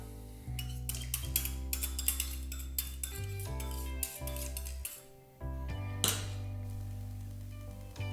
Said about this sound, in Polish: Wymieszajmy to sobie wszystko.